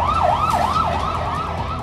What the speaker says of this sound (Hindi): युद्ध का सायरन बजने लगा है।